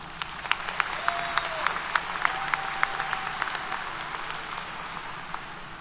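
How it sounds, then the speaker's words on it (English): A large audience at a university commencement ceremony applauds, a crisp, sustained mass of clapping with individual sharp claps standing out in a loose rhythm, fading a little by the close. "Let's give them a round of applause."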